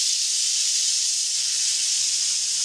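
Hot cumin tadka poured into kadhi for a Pakistani-style kadhi pakora, giving a steady, close hissing sizzle that holds evenly for a couple of seconds with no talk.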